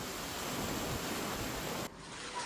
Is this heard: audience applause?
no